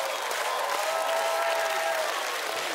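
Steady applause from a live audience at a televised X-Factor gala concert, a dense continuous wash of clapping filling the hall with a faint sustained tone running through it, no pause from start to finish.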